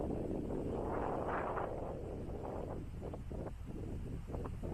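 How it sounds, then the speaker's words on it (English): Strong wind roars across a golf course, buffeting the microphone with steady, dense rumbling noise and gusty surges throughout, fairly quiet overall with no talking. "It's so windy the camera person is about to fall over."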